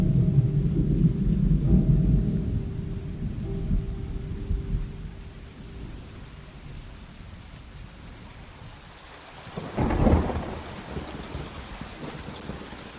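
Heavy rain pours steadily at an outdoor location, a thick hiss throughout, and a single roll of thunder swells near the end before the downpour carries on.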